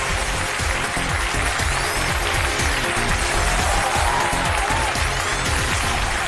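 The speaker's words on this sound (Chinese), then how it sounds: "让我们用掌声请出这对夫妻，掌声有请" Studio audience applauding to welcome a married couple onto the stage of a Chinese relationship-mediation TV show, a steady dense wash of clapping and crowd noise that fills the whole stretch at a loud level.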